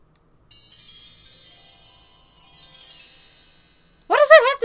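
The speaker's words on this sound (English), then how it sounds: "Dinner bell." A dinner bell sample auditioned in music software: a few light, high chiming bell strikes with ringing tails in two bursts, followed by a brief spoken voice at the end.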